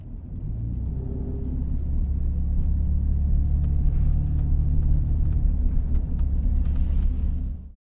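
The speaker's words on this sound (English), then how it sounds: "Here in the S-Type you can hear its characteristic baritone growl. This is balanced from the rear of the car by a bassy but not too intrusive exhaust note." Jaguar S-Type engine producing a deep baritone growl with a bassy, restrained exhaust note from the rear, a steady low rumble that rises slightly as it revs before cutting off abruptly.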